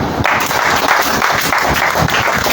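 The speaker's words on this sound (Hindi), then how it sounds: "ताली बजाएं।" A church congregation applauds at a Hindi-language service, a dense, steady wash of clapping from many hands that fills the whole short moment.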